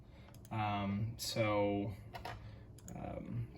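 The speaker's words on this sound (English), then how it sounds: "when you're typing out your scripts" Keys clack on a computer keyboard while a script is typed into Microsoft Word, the scattered clicks sitting beneath a person talking.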